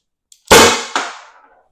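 A Byrna less-lethal launcher fires over a chronograph: one loud sharp pop, then a second quieter report about half a second later, each decaying quickly into silence.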